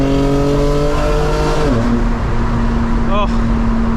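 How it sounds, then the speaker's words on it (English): A fully modified 2025 BMW M4 Competition engine holds a high, droning rev, with the pitch shifting as it settles, loud and close from inside the car on an early morning drive. "get high in the RPM range so that we can rev it a little bit"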